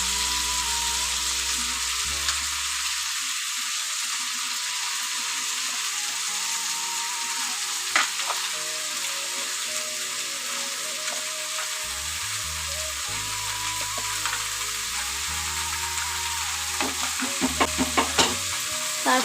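Chopped bottle gourd greens frying in a mustard masala in a pan, a steady sizzle with stirring and scraping throughout, close and fairly loud with occasional clinks near the end.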